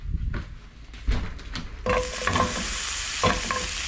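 Onions sizzle and fry in a pan holding leftover steak juices, with stirring scrapes early on and a steady loud crackling hiss that fills the rest of the clip.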